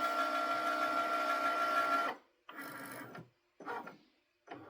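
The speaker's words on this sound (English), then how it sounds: "Cricut will cut that out for us" A Cricut cutting machine cutting out an iPhone 14 Pro case design with a steady mechanical whir for about two seconds, then three short separate bursts of carriage motor movement between quiet gaps.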